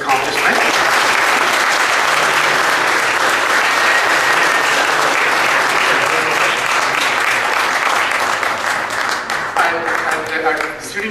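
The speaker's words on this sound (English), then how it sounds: "Let's first applaud this accomplishment." Sustained, dense clapping from an audience at a university lecture and award ceremony, loud and even throughout, easing slightly near the end with some voices underneath.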